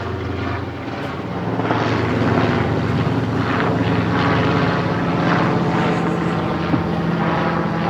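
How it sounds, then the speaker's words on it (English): Helicopters pass overhead with a loud, steady rotor and engine roar that swells and holds throughout, outdoors near a Nissan Atlas fire truck, with no talking. "Choppers!"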